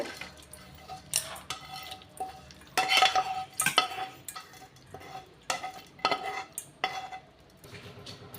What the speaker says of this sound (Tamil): நல்லா மிக்ஸ் பண்ணி விட்டுடலாம்